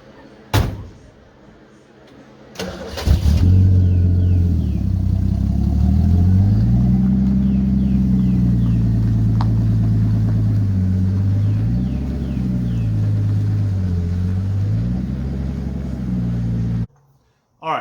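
A 1965 Ford F100 pickup's engine starts with a burst, then idles and rumbles steadily as the truck is put in gear and eases forward, revs rising and falling slowly; a door clunks near the start and the sound cuts off at the end.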